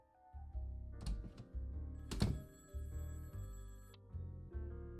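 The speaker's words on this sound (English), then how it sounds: "there goes the phone" An old-style telephone bell rings in repeated short bursts in the game Nine Noir Lives, with a couple of sharp thunks between rings over quiet background music.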